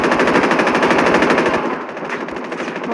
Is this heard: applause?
no